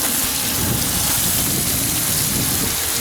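Dense, constant spray of water rinsing an automobile part before painting, a loud close hiss like heavy rain with no voices.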